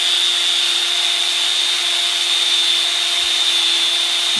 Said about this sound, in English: Just keep filing it back.